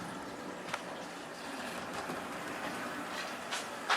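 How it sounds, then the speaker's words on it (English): Model railroad train rolling along its track, a low continuous rumble with faint clicks and soft ticks at irregular moments, fairly quiet and with no talk. "We got the train rolling down the track there"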